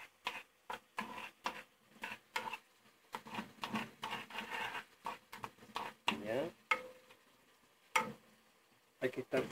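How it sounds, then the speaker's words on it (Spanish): Salmon and mushrooms in cream cooking in a pan, with repeated scraping and stirring strokes in an irregular rhythm over a soft sizzle, close and moderately loud, with brief voice-like sounds between strokes. "Mientras sigue cociendo el salmón, le vamos a agregar la crema"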